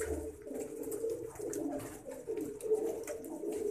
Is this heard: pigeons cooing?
yes